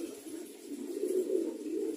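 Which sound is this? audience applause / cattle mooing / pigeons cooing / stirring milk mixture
pigeons cooing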